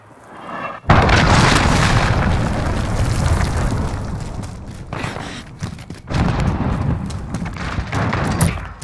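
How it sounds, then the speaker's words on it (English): Cruise missile strike in Modern Warfare team deathmatch on Aniyah Palace, a sudden heavy boom followed by a long rumbling roar of blasts, with a second loud impact wave later. "Allied cruise missile away."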